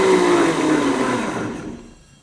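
A blender pureeing asparagus soup in its jar, a loud close whirring motor with a falling whine that winds down and fades out over about two seconds.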